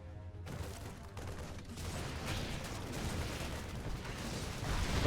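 In StarCraft 2, Terran marines unload rapid automatic fire onto siege tanks, a dense crackling rattle of gunfire with mechanical clanks that swells louder toward the end, mixed with other battle sounds.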